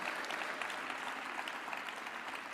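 A church congregation at a Sunday service claps together in a brief burst of dense, even applause, soft and somewhat distant.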